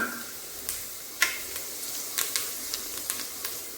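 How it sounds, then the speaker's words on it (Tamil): Fenugreek seeds frying in hot oil in a pan for fish curry, a steady soft sizzle with scattered small pops and crackles, close by and moderately quiet, no talking. "வெந்தயம் நல்லா பொரியட்டும்"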